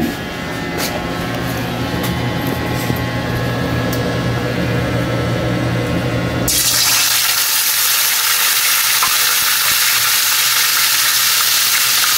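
Tuna steak frying in hot oil, a loud continuous sizzle that flares into a broader, harsher hiss partway through as the pan crackles steadily throughout.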